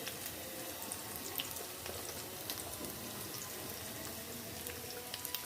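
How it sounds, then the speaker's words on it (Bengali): Onion and green chili sizzle and crackle steadily in hot oil, a dense continuous hiss with scattered small pops, close and moderately quiet, with no talking. "আমি প্রথমে তেল গরম করে নিলাম, এরপর পেঁয়াজ কাঁচামরিচ দিলাম"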